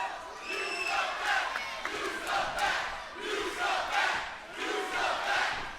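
A bloodthirsty wrestling crowd in the Impact Zone at a pay-per-view event shouts in rhythmic, swelling chants, with loud waves of voices rising and falling together and no commentary over them.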